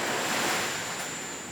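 Ocean waves wash steadily in the background at night in Jamaica, a continuous broad surf roar with a faint wind-like hiss and no speech.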